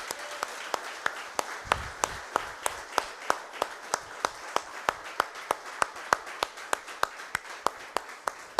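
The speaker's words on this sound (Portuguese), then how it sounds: "Você pode aplaudir ao nosso Senhor," A church congregation claps for the Lord in a steady unison rhythm, about three sharp claps a second ringing out evenly over a quiet room, heard from a moderate distance.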